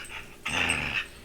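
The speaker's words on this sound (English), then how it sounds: "He's a silly little pup" A small puppy lets out a short, rough growl lasting about half a second, close and fairly loud, amid quiet household surroundings.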